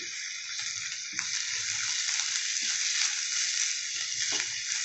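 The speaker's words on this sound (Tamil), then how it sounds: "நல்லா வதக்கி விட்டுக்கோங்க" Agathi (hummingbird tree) greens sautéing in a pan, giving a steady, close sizzle that runs unbroken throughout, with faint scrapes and clinks now and then.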